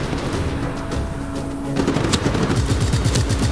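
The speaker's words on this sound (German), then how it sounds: "Es ist eh nur ein Maschinengewehr, mit dem man da schießt." Rapid machine-gun bursts rattle loudly in the video game Just Cause 3, with dense repeated shots layered over the game's background noise.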